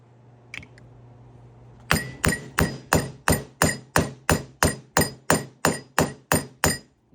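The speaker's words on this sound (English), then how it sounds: "Light hammer taps, it'll keep moving" A hammer strikes about sixteen light, even taps in a steady rhythm, seating a Hemi VVT lock block into place; a faint click comes first, then the close, ringing metal blows.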